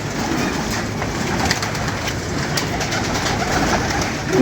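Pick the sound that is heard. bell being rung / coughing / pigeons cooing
pigeons cooing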